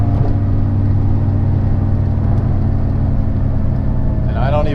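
A Dodge Challenger SRT8 V8 pulls hard in third gear, its close, steady engine drone and exhaust rumble filling the cabin, with the pitch starting to climb near the end.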